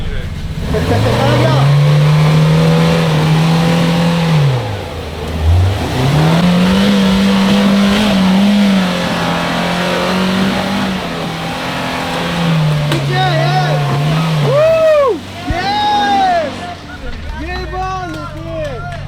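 A Nissan Patrol 2.8 engine revs loudly off-road, its pitch rising and falling through repeated surges of acceleration, with excited voices talking over it near the end.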